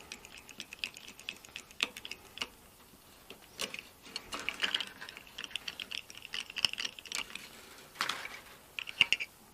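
A string winder unwinds bass guitar strings in close, quiet clicking and ticking that comes in uneven bursts, with faint rattles from the string and the tuning peg.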